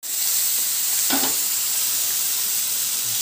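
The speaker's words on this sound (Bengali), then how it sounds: "ডিমগুলোকে কড়াইয়ে একটু সাদা তেলের মধ্যে হালকা শ্যালো ফ্রাই করে নেব।" Eggs shallow frying in white oil in a wok, producing a steady, close, hissing sizzle with a brief louder crackle burst partway through.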